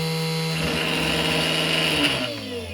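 A bolted-down mini wood lathe runs at full speed with a loud, steady motor whine and a strong tonal hum, beginning to slow and drop in pitch near the end.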